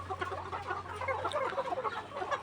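Layer hens about sixteen weeks old cluck in a farm coop, a busy overlapping chorus of short clucks close by, with a steady low hum in the background.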